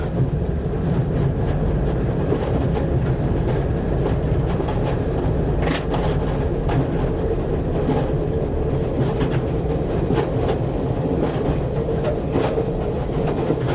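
Train running on the Looe to Liskeard railway beside the East Looe River at low speed, a steady close rumble of wheels and carriage with faint rail clicks throughout.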